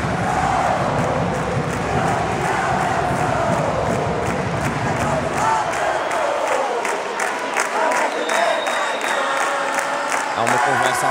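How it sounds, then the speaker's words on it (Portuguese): Crowd noise fills a basketball arena during a Portuguese league game between UD Oliveirense and AD Ovarense, with cheering and a steady wash of sound. Scattered claps from the Oliveirense bench blend into the din, and a commentator's voice is also heard. "O Eric Kuhlmann vai ali batendo palmas no banco da Oliveirense."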